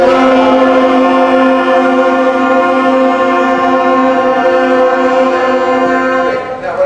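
A middle school band's wind section holds the opening note of a song as one loud, steady sustained chord for several seconds before it trails off.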